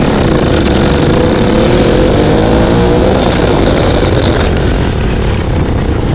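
A 150cc go-kart engine screams from a race start, a loud, continuous high-pitched buzz that climbs in pitch as it accelerates and holds close and steady throughout.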